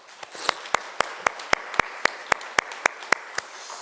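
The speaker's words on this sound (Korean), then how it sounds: "하나님께 영광의 박수 올려드리겠습니다" A church congregation claps in unison, giving about a dozen sharp, evenly spaced claps at a brisk steady beat, fairly close and with no talk over it.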